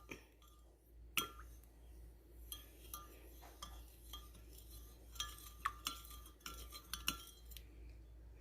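A spoon stirs birria in a bowl, giving a steady run of light clinks and scrapes against the dish over a low background hum, fairly quiet and close, with no talking.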